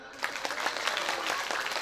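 Audience applause at a mosque inauguration sermon, a short burst of dense clapping from a crowd, fairly close and steady throughout, with faint voices mixed in.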